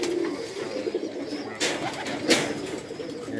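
Breeder pigeons housed in a loft setup cooing softly throughout, with a couple of brief sharper rustles or wing sounds partway through and faint background noise.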